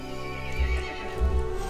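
A horse neighs in the video game Resident Evil Village, two loud snorting whinnies with a low rumble beneath them, over steady game ambience and clip-clopping hooves.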